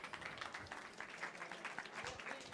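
Applause from the audience at a live drawing battle game show, steady and fairly faint, with a dense patter of claps lasting the whole moment.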